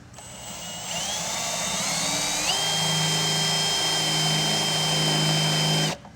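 A power drill whirs steadily for about five seconds, drilling a hole for a wiring bulkhead in a differential, its pitch shifting as it bites into material, loud and close before cutting off.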